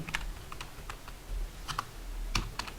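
Keys clatter on a computer keyboard during C programming work, a quiet run of irregular clicks and taps close by, with no talking.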